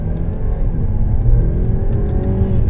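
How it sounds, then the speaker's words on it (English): A 2016 Jaguar XF 35t R-Sport engine revs steadily with a loud, continuous mid-range roar and rumble, up close and with no talking. "The engine revs really well."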